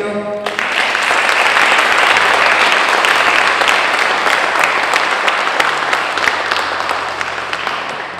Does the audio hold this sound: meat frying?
no